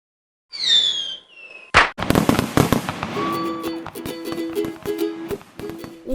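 Fireworks for an Independence Day celebration: a rising whistle, a sharp bang, then a dense run of crackling pops and repeated bursts, loud and close.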